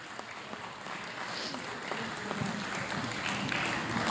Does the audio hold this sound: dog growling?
no